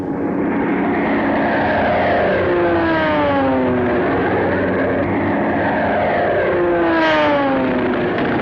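Propeller aircraft engines drone loudly overhead as B-29 Superfortress bombers and Japanese fighter planes fly in a wartime air battle, with repeated descending whines of planes passing and diving, continuous and dense throughout.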